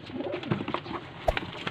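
A pigeon coos softly nearby in a short, low murmur against quiet background noise.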